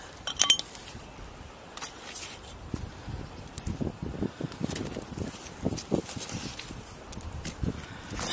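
Glass bottles and pieces of blue glass clink together as they are handled on a sandy river island, with scattered light knocks and rustling among gravel and sand.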